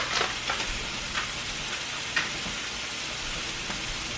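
Chicken pieces for fajitas sizzle and fry in a pan over medium heat, a steady close crackling hiss with a few brief sharper pops.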